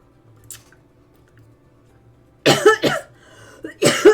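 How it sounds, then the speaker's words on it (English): A person coughs twice in quick bursts, harsh and close, after a quiet stretch with faint background noise; each cough is followed by a brief throaty catch. "I still have a little bit of a cough"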